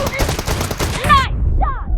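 Shotgun gunfire in the mobile game PUBG Mobile: a loud, rapid run of close shots followed by a sharp ringing blast and a fainter echoing shot as it fades.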